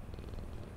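A house cat purring softly while being petted, a faint, steady low rumble close by in a brief moment.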